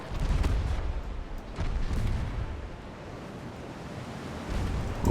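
Enemy warship gunfire from a naval battle in Ultimate Admiral: Dreadnoughts, heavy low booms rolling under a constant surf-like wash of sea and wind, with a few louder thumps standing out.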